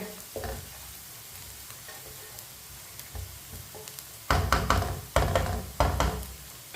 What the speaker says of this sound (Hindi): प्याज को मैंने हल्का सा ब्राउन कर लिया।